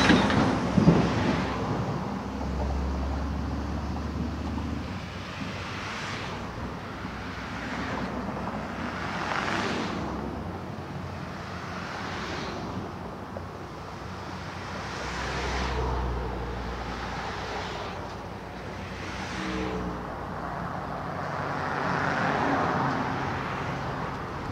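Road traffic rumbles steadily across Independence Bridge in an industrial area, four lanes narrowed to two, with vehicles swelling and fading as they pass close by, some heavy low-pitched passes among them, and no talking.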